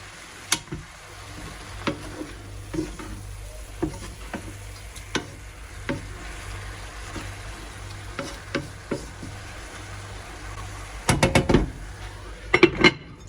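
Carrot, pepper and onion stew in a lidded pot for a baby's vegetable sauce: a soft steady sizzle with sparse clinks of lid or spoon, then a short, louder clatter of stirring near the end.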